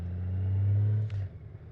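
A 2019 Honda Goldwing motorcycle engine revs up in a deep, loud rumble that swells and holds for about a second before the throttle drops off and the engine settles back down.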